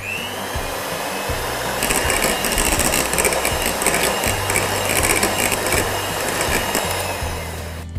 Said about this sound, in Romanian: Bat smântâna pentru frișcă.